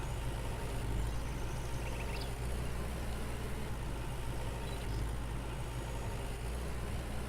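A tractor engine rumbles steadily while working a field in the farming game Farmer's Dynasty, a continuous low drone at even loudness with no talk over it.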